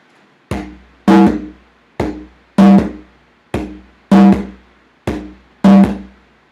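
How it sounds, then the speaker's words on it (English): Conga drum playing a Latin American two-beat pattern: eight sharp hits in pairs, a lighter stroke followed by a louder, ringing one, repeating steadily and up close with no voices. "this conga drum has a specific pattern in Unit 4,"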